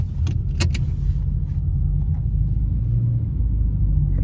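A 2017 Honda Accord pulling out and driving, steady close low engine and road rumble throughout, with a few brief jangling clicks near the start.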